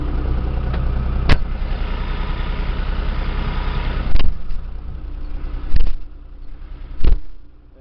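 A John Deere tractor engine idles steadily with a dense low rumble and no one talking, broken by a few short, sharp clanks or taps.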